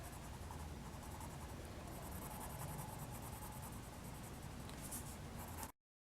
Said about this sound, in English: So we're going to color the bottom here.